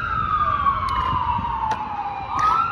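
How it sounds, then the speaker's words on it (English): An emergency vehicle siren wails on a street in Minneapolis, its falling tone sweeping steadily and then rising again, fairly loud and nearby over low traffic rumble, with no voices. "I swear there's always sirens in my video."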